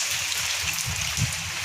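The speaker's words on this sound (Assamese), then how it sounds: "বৰষুণ দি আছে দেখোন।" Rain falls steadily in a continuous soft wash of patter, with a couple of heavier drips landing nearby.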